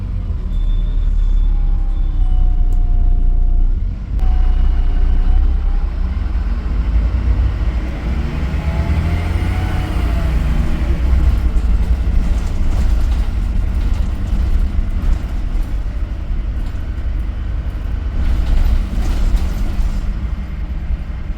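A Stagecoach Enviro300 bus with a MAN engine runs steadily, heard from inside the vehicle at a bus station as a loud, continuous low rumble with faint whining tones layered above, no speech.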